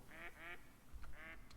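A mallard drake in the hunting game Call of the Wild TheHunter gives three raspy quacks, two close together and one after a short pause, fairly faint and alone.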